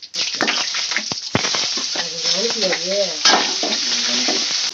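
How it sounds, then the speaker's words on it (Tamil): Onions and green chillies frying in oil with curry leaves for mutton leg soup, a loud close sizzle broken by scraping stirs and clattering utensil knocks, and a brief wavering tone partway through. "வெங்காயத்தோட பச்சை மிளகாவும் சேர்த்து போட்டாச்சு."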